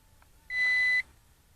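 A single sustained electronic low-battery warning beep from an Ameta S20 Lite drone, clear and fairly loud, lasting about half a second against a quiet background.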